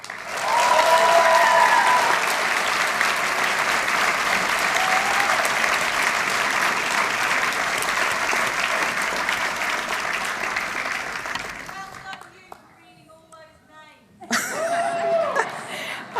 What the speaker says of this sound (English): how about another round of applause for those graduating in absentia today